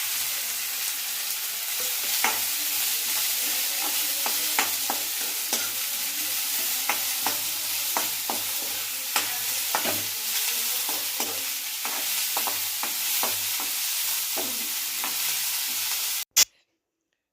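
Onion frying for a dhaba-style whole masoor curry, sizzling steadily in a pan while a spoon stirs with frequent scraping clicks, close and continuous before cutting off abruptly at the end.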